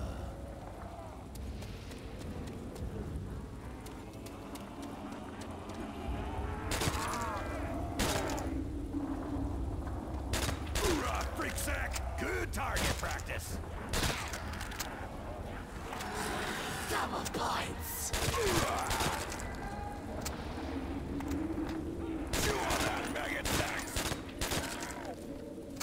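Gunfire in Call of Duty: World at War on a custom zombie map, with repeated sharp shots and bursts over a steady game background for about twenty-five seconds, mixed with occasional game voices and effects.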